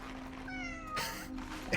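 A cat meows in the post-apocalyptic video game Cronos: The New Dawn, a couple of clear, close, tonal mews heard alone, followed by a short sharp click.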